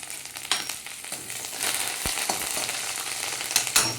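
Curry leaves and dried red chillies crackle and spit in hot oil for a native tomato pickle, with dense sizzling broken by sharp, irregular pops and a few louder bursts near the end.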